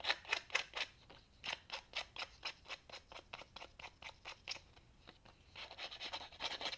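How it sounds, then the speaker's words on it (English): Scissors snipping away excess border from a photo while a scrapbook album page is being finished, a steady run of quick, close, crisp cuts about three per second, fairly quiet and with no talking. "If I sand and I feel like there's too much border, then I'll just cut some off."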